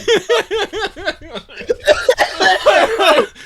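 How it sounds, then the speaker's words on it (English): Rapid rhythmic coughing fits up close, blending into laughter-like bursts and breathy voices near the end. "Oh god, we're both coughing!"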